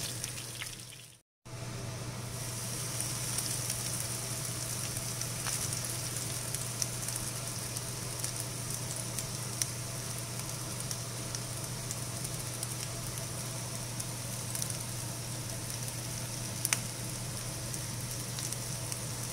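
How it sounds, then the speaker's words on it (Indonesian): Chicken sizzles and crackles in hot oil over medium heat, a steady close frying hiss with small pops throughout, after a brief moment of silence near the start. "Gak usah terlalu lama gorengnya karena minyaknya udah panas dan pakai api sedang"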